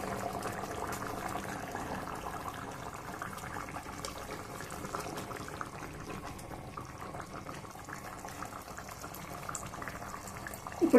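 Fish curry with masala simmers gently in a pot over a low flame, giving a soft, steady bubbling hiss that stays faint and continuous with no talking.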